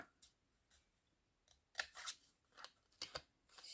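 Small scissors snip through paper for a rotating pop-up card, a series of crisp, close cuts quickening into clustered snips in a quiet room.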